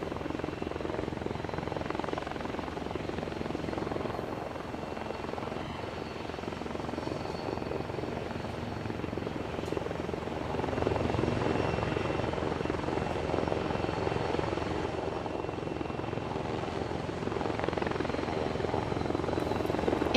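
Pitts S2B aerobatic biplane at an air show, its piston engine running steadily before takeoff, a continuous broadband drone that swells slightly partway through, with no talk.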